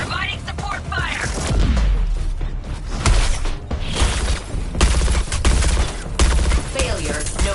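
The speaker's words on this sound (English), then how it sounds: "Providing support fire!" Support gunfire in the Suicide Squad video game, bursts of rapid shots mixed with booms and clanking effects, loud and dense under a character's voice calling out.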